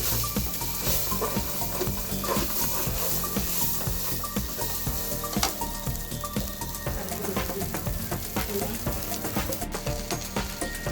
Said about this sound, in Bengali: চালটা আমি ভাজবো।